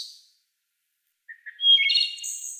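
A field-recorded wild bird gives a short chuckling call: a brief high chirp, then a pause, then a quick run of bright twittering notes, clear and isolated against silence.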